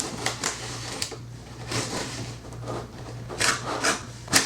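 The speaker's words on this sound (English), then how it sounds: "You simply place this on the tile" Cutting a 3D wall panel tile produces a string of irregular, close scraping and clicking bursts with short pauses between them, set over a low steady hum.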